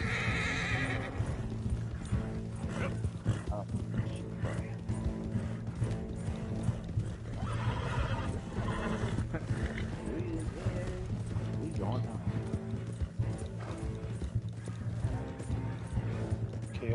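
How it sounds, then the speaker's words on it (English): Horse whinnies and hoofbeats clip-clop over continuous Red Dead Redemption 2 game music and effects, with a person talking throughout. "Please, please, please just don't fail on me, horse."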